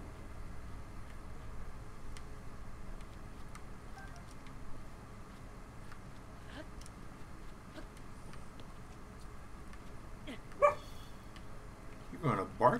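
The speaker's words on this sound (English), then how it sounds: "You're gonna bark at Dad" A dog at home gives a few short barks and yips near the end. The barks rise over a quiet indoor background after a long stretch of low room noise.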